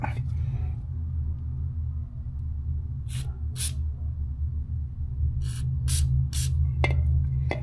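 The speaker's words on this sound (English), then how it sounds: "So I'm going to spray this with some brake clean." Several short hissing bursts from an aerosol can of brake cleaner sprayed onto motorcycle threads, a couple of quick sprays, then a cluster of longer ones, over a steady low rumble in the background.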